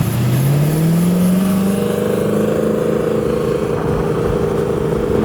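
The 750 hp 1970 Cuda known as "Sick Fish" revs hard while driving, its engine note climbing in pitch and then holding as a loud, steady, close-up roar, with no voices over it.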